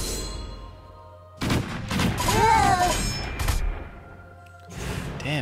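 Booming cannon fire and clanging impacts from the South Park: The Stick of Truth video game sound in a loud cluster over a couple of seconds, with a brief tonal ringing sweep and game noise around it.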